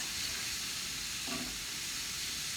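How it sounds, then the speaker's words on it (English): Food frying in a pan with no oil added, a steady close hiss and sizzle that stays even throughout, with a faint brief stirring sound midway. "let's just fry that a little"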